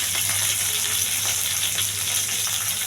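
Chana dal, urad dal, cumin, mustard seeds, curry leaves, dried red chillies and garlic sizzle in a generous amount of hot oil, giving a continuous close crackling hiss with no voices over it.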